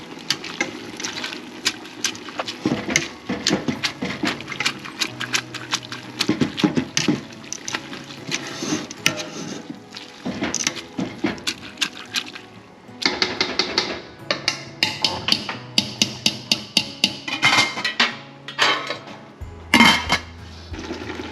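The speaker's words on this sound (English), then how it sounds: "Okay, let's put the lid on." A lid going onto a pot of simmering wild grapes for jelly, amid a long run of metallic clatter, taps and knocks from cookware, some in quick bursts.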